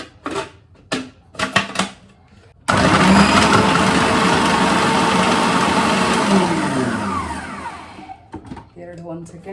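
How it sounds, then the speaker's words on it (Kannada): A small electric chopper chopping onions whirs loudly for several seconds, then winds down. Brief clatter and handling sounds come before and after. "ಒಗ್ಗರಣೆಗೆ ಆನಿಯನ್ ಚಾಪ್ ಮಾಡ್ಕೊಳ್ಳೋಣ ಅಂತ ಹಾಕ್ಕೊಂಡಿದ್ದೀನಿ."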